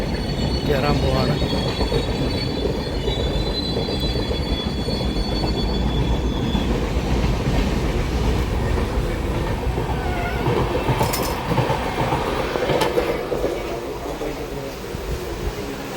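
A train at Chalakudi railway station makes a loud, continuous rumble with thin, high wheel squeals early on and a few sharp metallic knocks later, heard up close.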